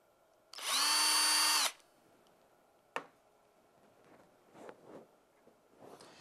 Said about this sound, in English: Take your drill bit, and we want to pre-drill in the center of the mounting slot hole